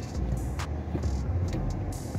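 A car engine running steadily right after starting, a low, even rumble with only slight swells in pitch, close by and alone, on a rainy day.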